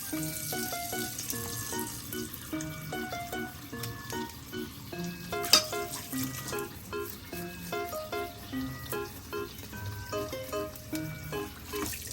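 Small scaly fish fry in a pan with a steady, moderate sizzle over a background of music-like tones. One brief sharp pop stands out midway.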